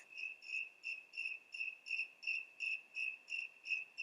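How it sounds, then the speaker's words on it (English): Crickets chirp in a steady pulsing rhythm, about two bursts per second, faint and even, with no other sounds around them. "asked the crickets to break into song"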